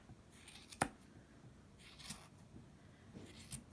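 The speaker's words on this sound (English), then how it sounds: "you should trim it along the edge of the cardboard like this" Scissors trim woven yarn along the edge of a cardboard loom, giving a few soft, close snips with one sharper cut early on over quiet room noise.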